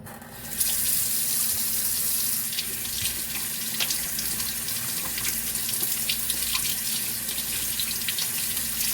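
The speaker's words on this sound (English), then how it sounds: "we are going to wash the seamoss thoroughly" Tap water runs steadily into a sink while sea moss is rinsed under it, a loud continuous splashing stream with small irregular spatters as the moss is handled, no voices.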